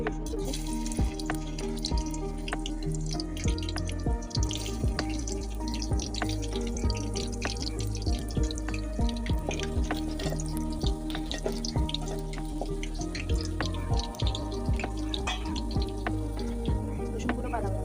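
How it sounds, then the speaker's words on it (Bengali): Chopped garlic dropped into hot oil in a pan crackles and sizzles steadily, with dense popping spatters scattered throughout at close range. "তারপর তেল গরম হয়ে আসলে এর মধ্যে দিয়ে দিচ্ছি রসুন কুচি"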